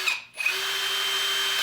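A cordless drill with its chuck clutch set spins up after a brief pause to drive hub motor plate screws, giving a steady, close, high-pitched whine that holds to the end.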